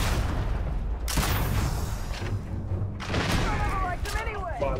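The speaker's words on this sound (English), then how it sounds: "Με βαράνε με grenade launcher." Grenade launcher explosions in the space game Starfield, several heavy booming blasts over a rumbling background, with someone talking over them.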